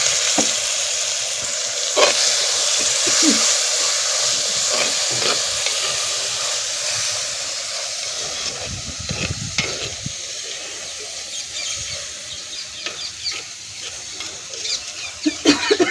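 Green chillies fry in oil for a traditional chutney in a terrace garden, a continuous close sizzle broken by scraping stirs and crackling pops, with no voices.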